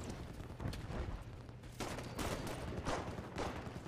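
Gunfire fills a Halo 5 Warzone match, with a railgun firing as dense, loud, overlapping bursts and booms that run continuously without pause and with no talking.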